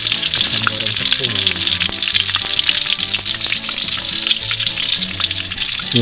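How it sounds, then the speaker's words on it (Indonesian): Flour batter frying in hot oil over a low flame at a camp shelter kitchen, a steady, dense crackling sizzle close by that continues without a break throughout. "Kita goreng tepung."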